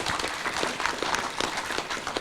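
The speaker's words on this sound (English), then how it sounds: "So please give them a big round of applause." Dense, steady applause from an audience at a public forum on overcoming drug addiction, many hands clapping together at close range for a couple of seconds with no break.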